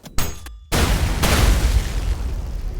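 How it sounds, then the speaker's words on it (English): Malicious railcannon shot in the ULTRAKILL shooter sets off a loud, close explosion, with a short crack and a sudden booming blast that rumbles on and fades slowly. "Malicious, which causes an explosion when shot, but the main thing I use it for is to make a mini nuke."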